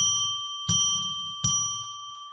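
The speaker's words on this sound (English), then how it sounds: "let's ring a bell 3 times to declare sacred space" A small bell struck three times at even intervals to open a sacred space, each clear ringing tone decaying slowly into the next, close and alone without talk.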